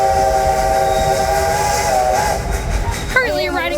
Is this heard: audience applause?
no